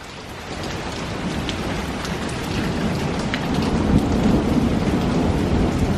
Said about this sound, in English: It's rainy. It's storming.